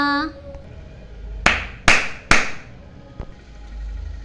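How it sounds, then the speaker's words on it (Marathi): Three sharp, loud hand claps spaced about half a second apart, with a softer tap afterwards and a faint voice at the start. "क्लॅप युअर हँड्स टाळ्या वाजवा हातांची टाळी वाजवा"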